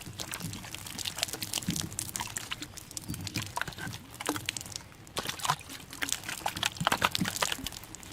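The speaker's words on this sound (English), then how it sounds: "I'm going to try and clean it out with a little bit of water" Water splashes and trickles over a muddy Steyr M9 A1 rifle as it is rinsed, giving a steady wet spattering with brief sharper bursts of running water and light handling clicks throughout.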